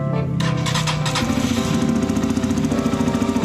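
A Rusi Flash 150X scooter engine, after a throttle body cleaning, starts and idles, a loud, close, rough rattling chug that settles into a steady putter, with no talking.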